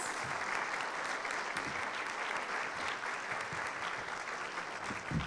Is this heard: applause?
yes